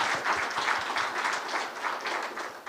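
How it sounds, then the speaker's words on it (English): Audience at a 2024 business seminar in Manzini breaks into a huge round of applause: dense, sustained clapping from many people filling the room steadily for the whole stretch, with no voices over it. "May I request that we give them a huge round of applause."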